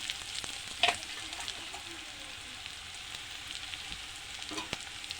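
Garlic, ginger and chopped green chili sizzling steadily in hot oil in a pan, a continuous fine crackle with a couple of sharper pops near the start and end, no voices.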